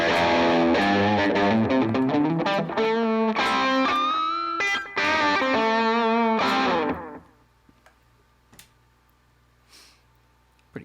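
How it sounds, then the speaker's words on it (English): An electric guitar riff run through a Boss DM2-style analog echo effect, with distorted notes ringing and repeating in fading echoes, then cutting to near silence with faint residual ticks. "Analog echo based on the Boss DM2."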